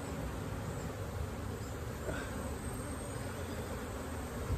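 Honey bees in an opened hive with a new deep box added, holding spotty brood, bee bread and many nurse bees: a dense, steady buzzing hum throughout, close and constant with no talk.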